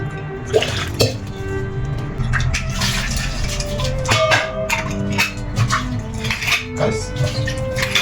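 Rice being washed with water in a pot in a home kitchen: continuous sloshing and swirling water with scattered clinks and knocks of the pot, steady and close, no talk.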